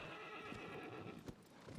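A horse in the Shadow of the Colossus video game whinnies loudly while its hooves clip-clop at a steady gallop, close and continuous with no talk.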